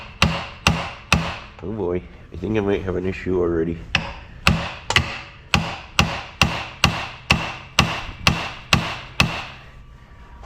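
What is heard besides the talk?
hammer tapping on CVT double reduction part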